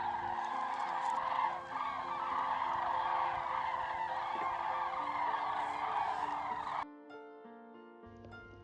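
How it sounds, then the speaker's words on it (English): A large flock of cranes at a wetland makes a dense, loud chorus of honking calls that goes on steadily for several seconds before giving way to soft musical tones. "The peace and quiet of the morning are suddenly broken by a cacophony of birds chirping."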